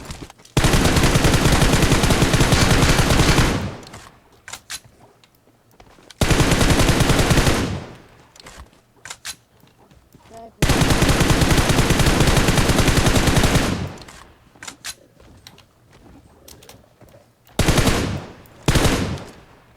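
Loud bursts of automatic gunfire from PUBG Mobile, set in a zombie-filled house, come in several long sustained volleys separated by short quieter gaps, with shorter bursts near the end.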